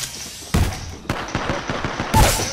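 Loud, close gunshots from the video game Apex Legends crack out in a few sharp bursts, with a rapid run of shots in the middle and a heavy blast near the end.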